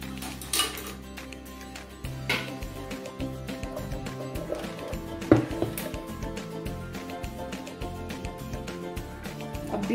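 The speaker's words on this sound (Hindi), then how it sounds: "हमें बीट नहीं करना है, हमें सिर्फ मिक्स करना है उसको स्पैटुला से" Muffin batter with a tablespoon of vinegar being folded by spatula in a bowl, giving continuous scraping, clinking and wet mixing sounds at close range, with a sharper knock around the middle and no talking.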